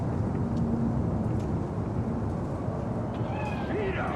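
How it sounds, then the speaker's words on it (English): A cat meows in Cyberpunk 2077, a short rising call near the end over a steady, loud bed of ambient game noise with a low hum and faint voice-like murmur. "Chill, just a cat."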